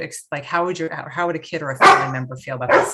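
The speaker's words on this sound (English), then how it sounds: "Sorry, that's my dog." Dog barking in the background of a video-call panel discussion: several short yips and barks breaking through and overlapping someone talking, close and fairly loud.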